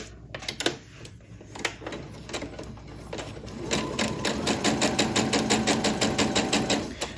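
Sewing machine stitching a quilt block seam, starting with a few slow separate needle thumps and then settling into a fast, even run of close rhythmic stitches, loud and clear.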